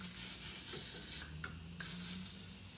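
Penetrating lubricant sprayed onto a rear suspension bolt during a coil spring replacement on an independent rear suspension, heard as several close, loud hissing bursts with short pauses between them.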